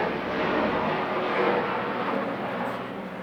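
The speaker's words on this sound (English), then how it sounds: "excuse me, there's an helicopter" A helicopter passes overhead during an outdoor training session, heard as a loud, steady, broad rumbling roar that swells slightly and then eases off, with no voices.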